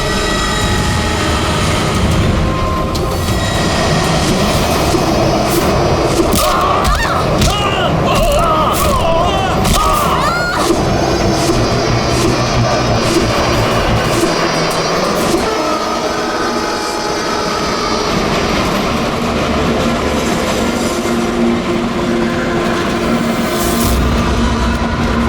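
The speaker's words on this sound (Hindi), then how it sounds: "तो 100 साल पहले ट्रेन टनल में घुसती है।" A train rumbles and roars as it enters a tunnel, its dense, steady noise holding loud throughout, with a deeper muffled boom building toward the end.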